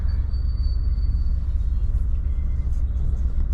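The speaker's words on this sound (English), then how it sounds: "What the hey is up with all this traffic?" Road traffic rumbles steadily from inside a car while driving, a continuous low engine drone with a faint high whine and no speech.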